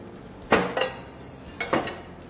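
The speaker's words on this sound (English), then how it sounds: "let's bring this back and mix the dry ingredients" Dry ingredients for a corn pudding casserole being stirred in a bowl produce two short pairs of clinks and scrapes of a utensil against the bowl, close and fairly quiet, with near-silence in between.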